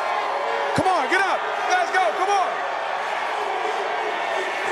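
A dense crowd roars along downtown streets at the Denver Nuggets championship parade, with individual voices shouting and whooping above a constant wall of cheering.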